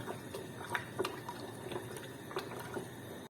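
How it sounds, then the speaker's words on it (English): Hot water is poured onto small-grain rice while preparing Jordanian mansaf, giving a soft, continuous splashing trickle with faint clinks, fairly quiet throughout. "Now we put hot water in the rice"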